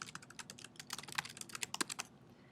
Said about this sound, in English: You can just type a note.